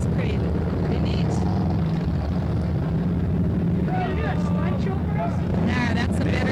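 Harley-Davidson motorcycles rev their engines during a small-town parade, a steady loud engine rumble with bursts of revving, under wind noise and people talking nearby.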